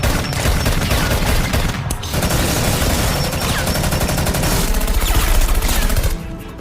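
A film gunfight with machine gun fire: loud, dense bursts of rapid shots rattle almost continuously, with a brief lull before the barrage resumes and then cuts off near the end.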